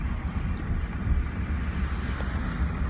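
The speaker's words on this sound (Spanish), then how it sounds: "Por aquí está corriendo un río fuerte," Floodwater from the overflowing Juárez drain rushes in a steady, loud, broadband roar that does not let up, with wind buffeting the microphone and no voices.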